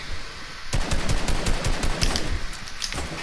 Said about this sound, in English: The ones that are shooting at us, I think they're cocky.